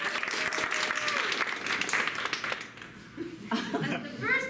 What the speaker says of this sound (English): Audience applause.